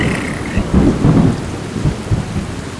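Low rumbling thunder from a passing storm with lightning rolls in several heavy swells over a steady hiss of rain, fairly close and loud throughout.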